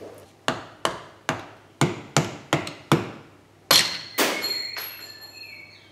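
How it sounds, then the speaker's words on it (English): Two screwdrivers are tapped to drive a snap ring out of a Toyota MR2 gearbox. About nine crisp metallic taps land at an uneven pace, close and loud, ending in two harder strikes and a lingering ring of metal. "Service manual says tap it out with 2 screwdrivers."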